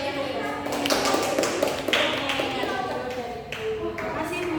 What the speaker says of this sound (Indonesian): Beri aplaus bagi kalian.